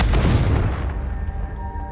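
A Confringo fire spell bursts in Hogwarts Legacy, a loud booming blast at the start that rolls off into a rumbling, ringing decay over about two seconds, with no voices over it.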